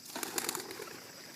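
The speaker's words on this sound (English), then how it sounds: "I release this bird straight away so he doesn't go side to side." A bird, likely a pigeon, is released during steady-to-release hunting dog training, and its wings give a faint, quick burst of flapping that fades as it flies off.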